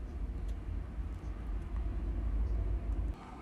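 Wind blows outside a camper, a faint steady low rushing roar with gentle gusts and no other distinct sounds.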